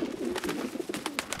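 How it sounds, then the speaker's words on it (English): Pigeons coo in the fantasy role-playing game Baldur's Gate 3, soft repeated throaty calls in a rolling rhythm at moderate distance, with no talking. "I love the sound of pigeons."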